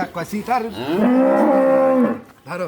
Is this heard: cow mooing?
yes